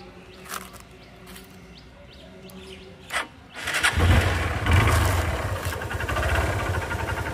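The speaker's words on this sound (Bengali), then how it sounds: "এটা কিন্তু ফ্রি অ্যাক্সেলেটারের ইঞ্জিনের সাউন্ড, ফ্রি অ্যাক্সেলেটারের সাইলেন্সারের।" A 2018 Hero Hunk 150cc motorcycle with about 34,385 km on it, whose engine starts after a few quiet clicks and then idles loudly and close at free throttle, a steady throbbing rumble through the exhaust.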